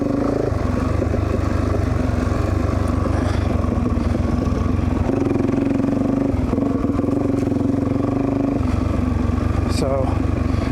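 A motorcycle engine drones loudly and continuously on a dirt track to a lookout, rumbling and shifting in pitch as the bike rides along, with wind-like noise mixed in.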